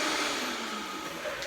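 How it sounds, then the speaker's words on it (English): A high-speed blender whirring through cashews and water for a vegan chipotle lime crema, a steady, loud motor whine that fills the whole stretch without pause. "And now I'm going to blend it at very high speed."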